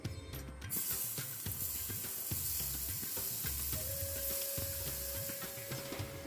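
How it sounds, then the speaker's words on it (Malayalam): Prawns marinated in turmeric, chili powder and salt fry in oil for a pickle, a constant bright sizzle with rhythmic stirring scrapes and clatters repeating throughout, near and unaccompanied by speech. "ഇനി ഇത് എണ്ണയിൽ നന്നായിട്ടൊന്ന് വറുത്തെടുക്കാം"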